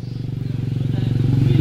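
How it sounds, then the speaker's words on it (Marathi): A motorcycle is ridden at a farmhouse, its engine putting out a fast, steady, throbbing idle close by and alone, without any obvious revving. "इकडे पारी पारी चालू आहे बाईक रायडिंग"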